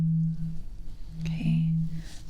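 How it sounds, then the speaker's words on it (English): A struck tuning fork rings with a steady pure tone, fading and returning in sustained stretches, heard close and fairly soft in a quiet room. "I have a tuning fork, and if you don't know what that is, it sounds like this."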